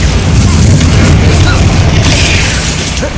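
A Bombarda explosion spell in Hogwarts Legacy on Xbox Series S lands as a loud, sustained booming blast, heavy low rumble filling the whole moment with dense crackling debris above it.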